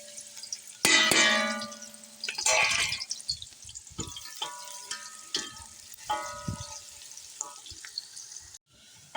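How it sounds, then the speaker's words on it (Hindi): Onion being browned in about four spoons of hot oil for a radish bhujia, a loud burst of frying sizzle as it hits the pan, followed by steady crackling with clangs and scraping of a stirring spoon. "ऑयल हमारा गर्म हो चुका है। सबसे पहले हम प्याज ब्राउन कर लेंगे।"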